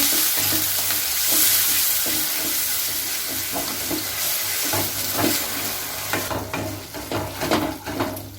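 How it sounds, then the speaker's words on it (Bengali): Spices loosened with a splash of water and sautéed in a pan for shukto, a loud close sizzle with repeated spatula scrapes and knocks that grow more irregular toward the end. "মশলাগুলো জলটা দিয়ে দেবো, একটু কষে নেব।"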